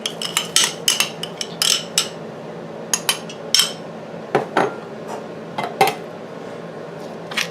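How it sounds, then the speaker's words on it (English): Frozen peas and carrots tumble into a tuna casserole dish, making a run of bright, clattering hits and rattles in irregular bursts, fairly close and loud, with no voices. "Add in my frozen peas and carrots."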